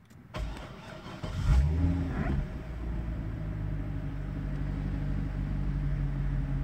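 A 2009 Corvette starts with a push button: a brief starter whir, then the engine catches with a sharp rev and settles into a steady, deep idle rumble, close and alone.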